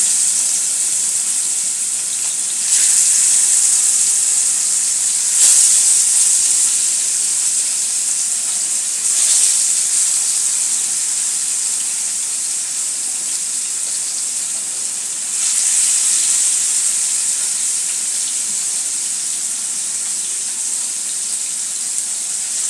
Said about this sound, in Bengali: মাছগুলো রান্নার আগে হালকা ভেজে নেব